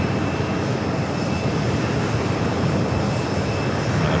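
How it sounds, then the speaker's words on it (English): An Emirates Airbus A380 airliner taxis at JFK Airport in New York, giving off a steady, loud jet engine roar with broadband rumble and a faint high whine, constant throughout. "The Emirates A380 Super heading toward us here"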